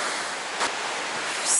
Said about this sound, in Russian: ну а шум от моря